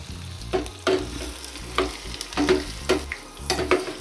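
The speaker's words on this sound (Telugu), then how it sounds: "ఈ పోపు వేగి మనకి కలర్ చేంజ్ అవుతున్నట్టుగా ఉంటుంది కదా" Lentils, asafoetida and spices crackle and sizzle in hot oil as a tempering for lemon rice, with a spoon scraping and stirring the pan about once a second, close and steady.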